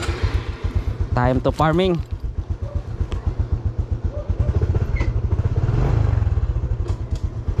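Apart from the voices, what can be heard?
Honda XRM 125Fi motorcycle riding off-road trail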